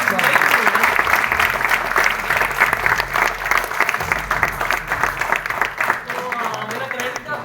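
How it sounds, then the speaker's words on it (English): Audience applause rings out at an Indian home-entertainment product launch, a loud, dense round of clapping from a crowd that carries steadily throughout with some voices mixed in. "Round of applause."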